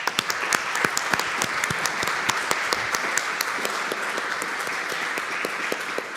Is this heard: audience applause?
yes